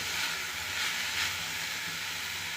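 Cumin and curry leaves sizzle in hot oil in a pan, a steady, close hiss of frying with faint stirring and no voices.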